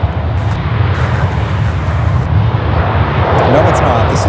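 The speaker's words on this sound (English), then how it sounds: "This is the Boeing 737." A Boeing 737 airliner at Charlotte Douglas airport sends out a loud, continuous jet roar with a deep low rumble, with a voice talking briefly over it.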